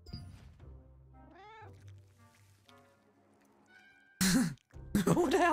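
A cat in the video game Throne and Liberty meows a few times with rising and falling cries, over a low ambient hum, followed by louder bursts of game noise and voices near the end.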